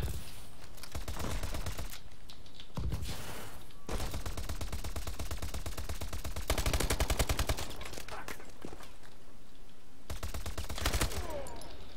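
Gunfire in Call of Duty: Advanced Warfare team deathmatch, with long automatic bursts and short gaps between them, loud and continuous over background game noise.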